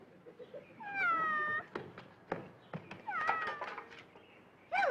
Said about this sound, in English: Don't chase that cat!